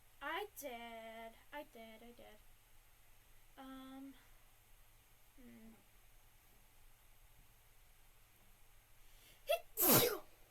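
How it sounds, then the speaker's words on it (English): A single sharp human sneeze bursts out loudly near the end, following several short vocal sounds and a quiet stretch of room hush. "Not a cute sneeze, I'm sorry."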